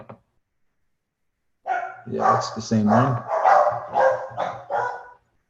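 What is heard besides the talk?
dogs barking in the background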